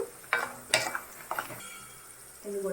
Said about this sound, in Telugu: ఇప్పుడు పల్లీలు వేసుకుని ఫ్రై చేసుకోవాలి.